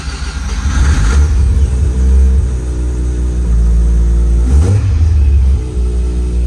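A Mazda RX-7 FC rotary engine runs close by with a loud, steady low rumble, rising briefly near the start and again just before the end, with no voices.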